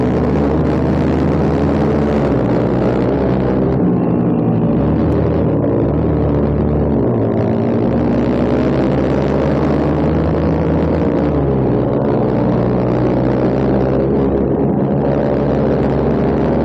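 A motorcycle engine drones steadily and loudly while being ridden, with a continuous low rumble that holds fairly even throughout and no voices over it.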